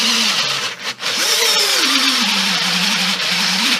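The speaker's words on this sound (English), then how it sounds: "Now we'll simply just take a step drill and we'll drive" A power drill fitted with a step drill whines steadily as it bites through hardwood, its pitch dipping and rising under load.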